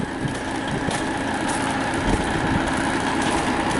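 A truck engine idling near a shop, a steady low rumble that continues evenly throughout with no talking.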